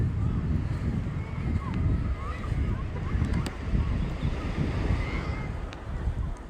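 Ocean surf rolls in at Paradise Cove pier in Malibu, California, a broad steady wash of waves mixed with gusty wind buffeting the microphone, continuous and fairly loud throughout.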